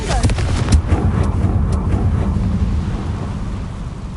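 Blasting spell explosion from Hogwarts Legacy, a loud booming burst with rumbling low-end debris and crackle, then a sustained roaring tail that slowly fades over several seconds.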